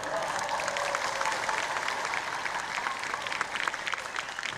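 Steady audience applause fills a hall during a speech by Indonesian President Jokowi, a dense, even patter of many hands holding at moderate loudness for the full stretch.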